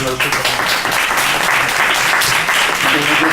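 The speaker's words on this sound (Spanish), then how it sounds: "Un aplauso" Loud, dense audience applause at a conference session, continuous clapping from a sizable crowd with some voices mixed in underneath, holding steady throughout.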